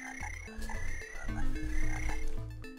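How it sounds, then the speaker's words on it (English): A frog croaking in an old DOS video game, a repeated synthetic croak with tonal bursts that recur several times over a steady electronic backdrop, loud and up front with no talking. "It's the frog again."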